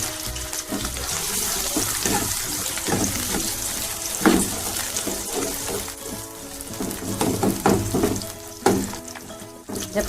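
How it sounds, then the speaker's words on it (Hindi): Onions frying in hot ghee, a crackling sizzle with wet spitting pops and occasional clatters of stirring, moderately quiet and close. "अब मैं गर्म घी में अब ये प्याज ऐड कर रही हूँ।"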